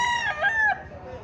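A single rooster crow rings out nearby at a chicken market in Lipa, Batangas, loud and drawn out, trailing off after about a second.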